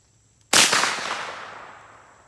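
A single 12 gauge shotgun blast goes off sharply close by, then a long reverberant tail fades out over about two seconds with no voices.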